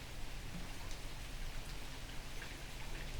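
Steady rainstorm pouring down in a soft continuous hiss of drops on surfaces, even and unbroken with no voices.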